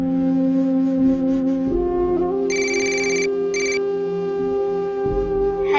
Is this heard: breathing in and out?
no